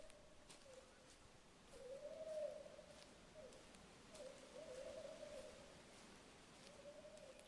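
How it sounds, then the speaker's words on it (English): Faint, distant owl hooting in a video game's wildlife ambience, several soft, drawn-out hoots repeating at an even pace over a steady background of wind rustling through leaves. "Distant owl."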